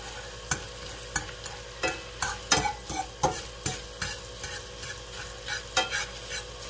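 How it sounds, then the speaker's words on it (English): Ground sausage sizzles in a pan for Southern sausage gravy while a big fork breaks it up, with repeated close scraping and stirring strokes over a steady frying hiss, no talking. "Got me a big fork to break up the sausage."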